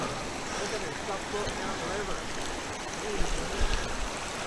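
Torrential rain floods a campsite beside a swollen river, filling the scene with continuous rushing water and rain noise, steady and broadband, with a few louder surges near the end.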